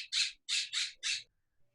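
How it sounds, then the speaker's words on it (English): Birds give four loud, harsh squawks in quick succession, close and clear, then a single fainter call follows, with no talking over them. "those birds are cracking me up"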